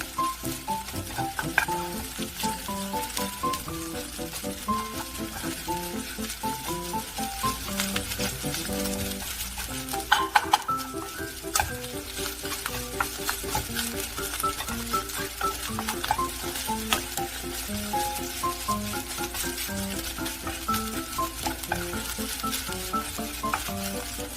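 Rice with garlic crackles and sizzles in a hot pan as it is stir-fried, a continuous close frying hiss broken by steady scraping and tossing strokes throughout.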